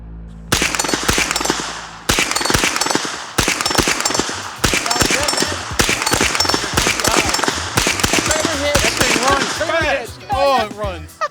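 A custom-built pistol-caliber gun fires a rapid, steady string of loud, sharp shots at close range. Voices talk over the shooting toward the end.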